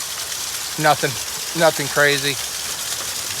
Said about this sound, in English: it's going to go back to just a little bit of heavy rain